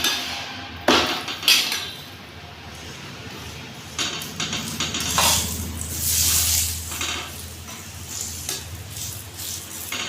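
Paratha frying in white oil on a griddle, with a steady sizzle throughout, a few sharp clatters and scraping stirs of a spatula, close and fairly loud, no talking.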